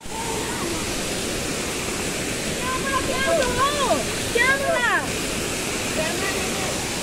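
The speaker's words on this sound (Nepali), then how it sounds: "यहाँ चाहिँ एउटा ठुलो वाइल्डै ठुलो झरना छ" A large waterfall on the Mardi trek route in Kaski roars as a loud, continuous broadband rush, with birdsong chirping over it for a few seconds midway.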